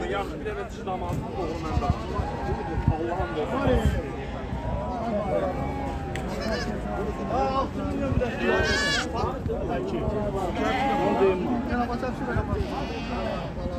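Goats and sheep, including milk goats and Arabian goats, bleat repeatedly at a busy outdoor livestock market, close and overlapping amid crowd chatter and people talking.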